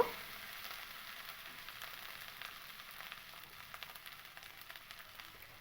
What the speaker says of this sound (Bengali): দেখুন মশলাটা কিন্তু খুব ভালো করেই মানে ভাজা হয়ে গেছে